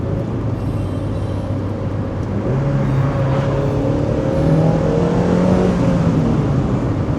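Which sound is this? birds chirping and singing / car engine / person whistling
car engine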